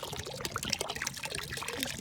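Car wash soap poured into a wash bucket while washing a small, not very dirty Evo 8 RS, giving a steady liquid trickle and splash that runs continuously at close range with no talking.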